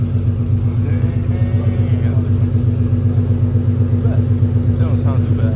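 An Infiniti Q50 with test pipes installed idles steadily, giving a deep, loud, even engine rumble with a regular low pulse. Faint voices can be heard in the background.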